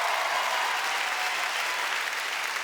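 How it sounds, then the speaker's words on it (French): A comedy show audience breaks into dense, sustained applause for the host, a continuous wash of many hands clapping at an even, loud level throughout, with no voices over it. "On l'applaudit,"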